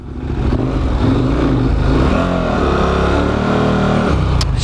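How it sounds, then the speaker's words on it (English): An adventure motorcycle fitted with Heidenau K60 Scout tires revs hard while stuck in sand, a loud, close, sustained engine roar that swells and holds with rising pitch. "I've been trying to push this bike through the sand over here and I get completely stuck"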